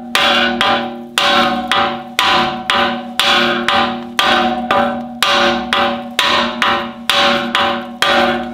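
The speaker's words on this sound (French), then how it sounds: "on met toujours l'écrou avant de taper dessus, toujours." A hammer strikes a nut threaded on a car suspension axle to free it, about fourteen loud, ringing metallic blows in an even, steady rhythm, close up and with no other sound between them.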